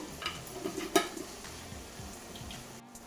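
A spoon scrapes and stirs through fish curry gravy with salt and chili in a pan, quiet clinks and scraping with one sharper knock against the metal, over a faint simmer.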